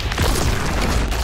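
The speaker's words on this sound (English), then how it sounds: "he just let off a bomb" A bomb detonating in Mortal Kombat 11 gameplay, a dense, sustained booming rumble that fills the moment, loud and up front with no voices over it.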